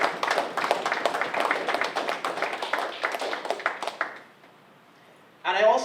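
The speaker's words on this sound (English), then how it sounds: "Ms. Maynard, you and your team deserves a huge round of applause." A room of people applauds a social services team at an official gathering, a steady patter of clapping for about four seconds that fades out before a voice begins speaking.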